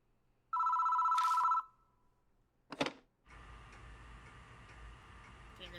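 An old landline telephone bell rings in a horror video game, one loud buzzing ring burst, followed by a short clatter and then a low humming hiss.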